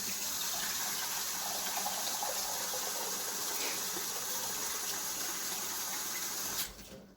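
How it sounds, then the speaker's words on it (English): Tap water runs in a steady, close rush, filling a measuring cup for several seconds before cutting off abruptly near the end. "I'll put water in this so I can add water to the chili as it's needed."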